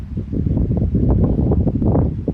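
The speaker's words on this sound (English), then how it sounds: "So it's very windy here," Strong wind buffeting an outdoor spot in Scotland at night, a loud, close, low roar with gusty surges and rumble against the microphone, no voices present.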